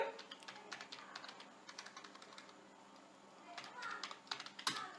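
Quiet, rapid keystrokes on a computer keyboard come in bursts during accounting data entry, with a few heavier single key presses standing out near the end.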